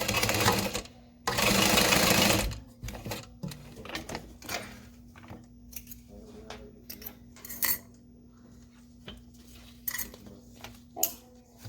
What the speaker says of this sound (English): we're just going to sew right across.